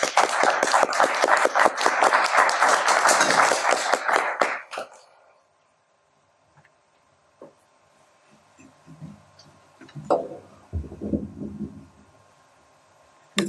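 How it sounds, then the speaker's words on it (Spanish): Audience at a museum day talk in Cusco clapping in a brisk burst of applause for about five seconds, then fading to quiet with a few scattered sounds and faint handling noise. "Lo recibimos con aplausos"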